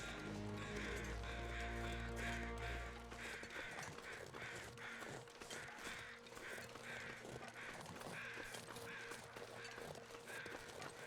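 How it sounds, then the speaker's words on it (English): Crows caw repeatedly in the game Stalker, a steady run of harsh calls near and far layered over an ambient low drone. "Noisy crows everywhere."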